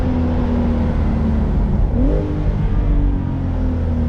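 A Brabus-tuned Porsche 911 Turbo S downshifting at full throttle, loud continuous engine roar from inside the car with a quick pitch jump midway as revs climb, heavy low rumble throughout.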